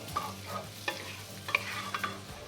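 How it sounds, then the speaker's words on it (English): Onions and peppers stirred through melted butter in a pan: a run of scraping spoon strokes over a soft steady sizzle, close and clear, with no talking. "get these onions in, some peppers in, give it a mix."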